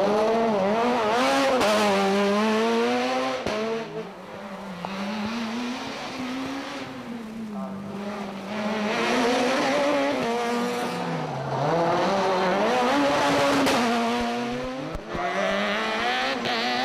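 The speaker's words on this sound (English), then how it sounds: "Chris Meek in the Peugeot 207 Super 2000 car, which is entered by Peugeot UK" A Peugeot 207 Super 2000 rally car is driven hard on a stage at a rally show, its engine revving loud and continuous as it rises and falls through gear changes, with occasional sharp cracks.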